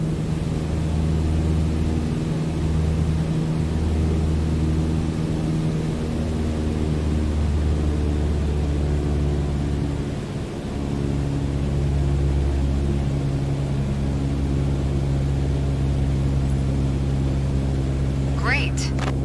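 A light aircraft engine in Microsoft Flight Simulator cruises at 5,500 feet while power is reduced toward 2,000 RPM. The steady propeller drone shifts in pitch about halfway through and holds a continuous, even hum.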